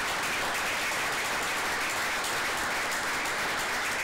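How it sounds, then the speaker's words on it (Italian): Applause at an Italian football club press conference presenting new signings, given for players who have left the team; dense, steady clapping from a room of people with no voices on top. "volevo fare un applauso a chi è andato via"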